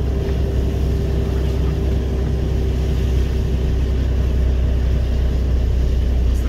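A car drives along a winter road, its engine and tyre noise forming a loud, steady rumble that fills the whole stretch without a break.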